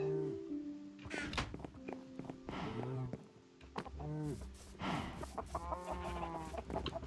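Chickens in a video game farm pen cluck and squawk repeatedly in a busy, overlapping stream, fairly loud and near, with no talking.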